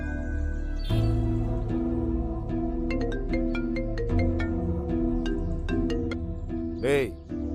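A mobile phone ringtone in a Tamil TV serial scene plays as a string of bright electronic melody notes, fairly loud over a low background bed.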